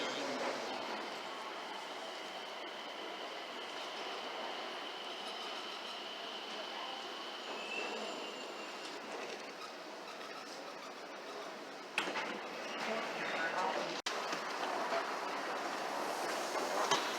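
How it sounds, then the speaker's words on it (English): The airport train at Washington Dulles Airport rolls along with a steady rumble and rattle, a few sharp clicks and a brief chime-like tone partway through, and a louder jolt near the end. "And now it's airport train time."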